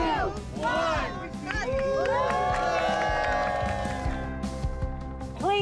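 People at the reopening of the Verdugo Hills Pool in Tujunga cheer with rising whoops, shouts and whistles over a busy crowd hum, with voices talking throughout.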